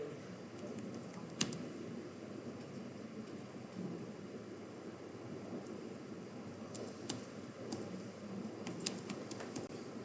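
Scattered light clicks of a computer keyboard as a search query is typed, set against a steady broadband hiss with no talking.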